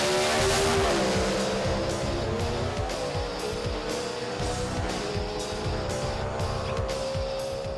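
A Super Comp drag racing car making a run at Sydney Dragway during an NSW Championship round, its engine roaring loud and close with rising, shifting pitch across the whole stretch.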